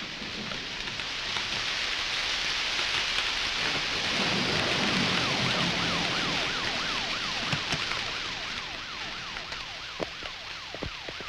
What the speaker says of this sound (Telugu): చినుకులు కూడా పడుతున్నాయి.